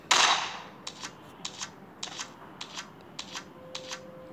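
Gunfire in the mobile battle royale game PUBG Mobile: a loud burst at the start, then a steady run of sharp, evenly spaced shots, each clear and close, with no talk over them.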